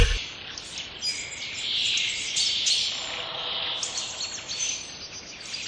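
Spring birds chirp and twitter in a soft, busy chorus of high tweets over a faint outdoor hush, with no voices.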